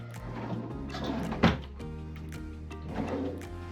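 Drawers in a cruise ship cabin slide and bump shut, with a soft rolling scrape and one firm thunk midway, then another quieter slide, close by and without speech.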